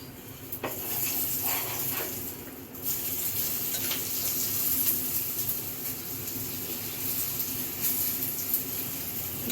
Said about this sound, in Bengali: দু পিঠ সেঁকা হয়ে গেলে এবারে একটু করে এই গাওয়া ঘি দিয়ে